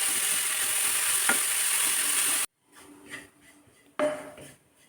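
Grated carrot roasting in a kadai, with a steady sizzle and scraping stir for about half the clip, then quieter intermittent frying and stirring noises that swell again near the end.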